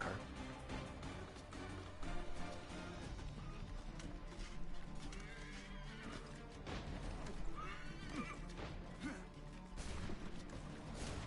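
Horse neighing and galloping in Assassin's Creed III, loud and continuous over game music and crashing effects, with a whinny standing out amid the steady hoofbeats.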